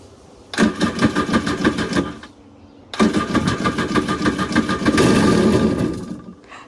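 An abandoned Kawasaki Jet Mate jet ski engine with no gas tank fires up in two bursts, a short rough run that cuts out, then a longer loud buzzing run before dying again.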